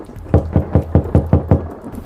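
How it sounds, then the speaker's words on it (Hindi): Knocking on a door as a horror-story sound effect: seven firm, evenly spaced knocks in quick succession, dull and close, with no voices. "अचानक दरवाजे पर दस्तक होती है"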